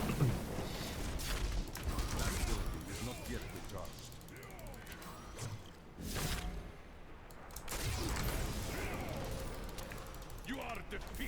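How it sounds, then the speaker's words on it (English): Explosions and clattering combat effects from Diablo 3, a monk build in a rift, bursting repeatedly amid whooshes and mechanical clanks, with a voice speaking over the game. "And definitely stay out of those explosions."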